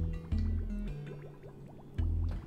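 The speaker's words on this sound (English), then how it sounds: "So we're pumping 95, 96 degree geyser water over here." Hot geyser water at about 95 degrees pumped through pipes in the game Oxygen Not Included, heard as liquid gurgles and drips over a low steady hum, with a surge at the start and again near the end.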